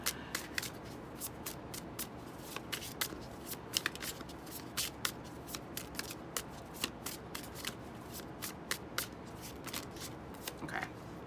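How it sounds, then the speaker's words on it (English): Tarot cards being shuffled by hand, a close, quiet stream of soft riffling slaps and flicks repeating steadily throughout, with no talking. "I'm going to take a few more tarot cards."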